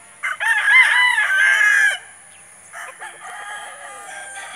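A rooster on a gamefowl farm gives one loud, close crow, followed by softer clucking and farmyard sounds as it trails off.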